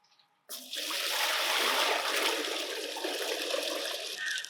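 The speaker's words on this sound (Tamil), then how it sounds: "முட்டை வேக வைக்க சுட தண்ணி" Water gushes steadily into a pot for boiling eggs in a village kitchen, starting abruptly after a brief quiet and continuing as a close, loud, even pour for several seconds.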